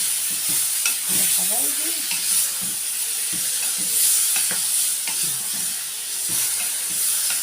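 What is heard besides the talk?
grated tomatoes frying and stirred with spinach and meat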